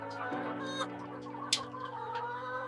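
Layer hens clucking on a poultry farm while eating feed, a continuous chorus of nearby clucks and murmurs with a few sharper calls rising above it.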